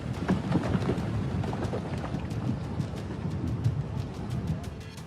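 Heavy monsoon rain falls in the Darma Valley of Pithoragarh, Uttarakhand, as a dense, constant patter with low rumbling thunder rolling underneath throughout.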